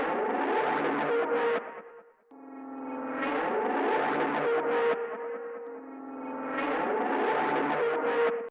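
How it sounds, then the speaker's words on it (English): A dark textured music sample run through the Echo Boy delay plugin in classic analog mode, set to sixteenth-note repeats with added feedback, playing as a loud, continuous looping phrase with repeating echoes trailing each chord, no talking. "Some Echo Boy, and let's do classic analog."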